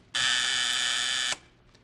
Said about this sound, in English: did you just want to see if the buzzer works?